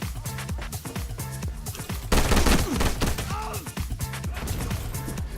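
Rifle gunfire in the shooter game Ironsight crackles as rapid, dense bursts of shots, with a loud volley in the middle over an ongoing mix of game sounds.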